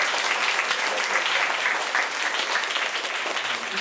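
A gathered audience at an outdoor street event claps steadily for the whole stretch, a dense, even patter of many hands at moderate distance.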